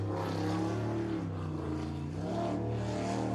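Racing powerboat Mean Streak running through the harbor in third gear during an offshore race, a faint distant engine drone whose pitch swells and dips as the boat goes by.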